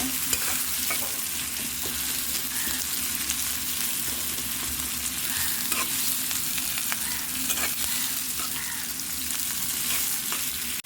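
Onion frying in a pan for a beef head and brain dish, a steady close sizzle with repeated stirring scrapes running through, alone and fairly even.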